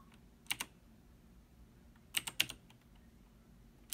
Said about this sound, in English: You'll type in your host ID.